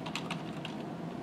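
Keys clatter on the keyboard of a rooted Nook SimpleTouch eReader, a handful of soft, close clicks at an uneven typing rhythm with no talking.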